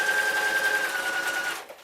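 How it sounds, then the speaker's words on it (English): A sewing machine stitches fabric in one quick, even burst of rapid needle strokes with a faint high whine, then stops abruptly near the end. "what it's doing is it's moving the coil automatically as we're sewing"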